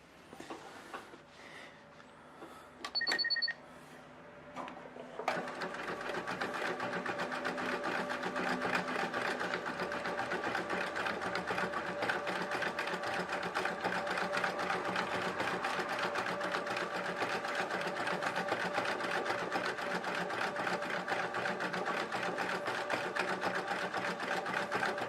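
A sewing machine runs a quilt stippling stitch, starting after a few quiet clicks and then whirring in a fast, even, continuous mechanical buzz, close and steady for about twenty seconds with no talk.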